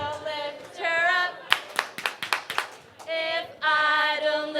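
Audience at a People's Forum gathering clapping along to a beat, sharp rhythmic claps in a steady pulse between stretches of sung or chanted voices.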